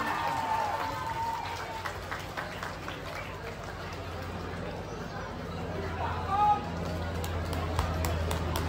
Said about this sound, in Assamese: সকলোৱে এবাৰ হাত চাপৰি কণ্টিনিউ হৈ থাকিব লাগে